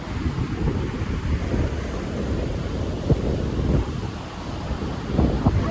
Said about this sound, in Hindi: अभी ऐसे ठंडी ठंडी हवा चल रही है जो बीच पे यूजुअली चलती नहीं है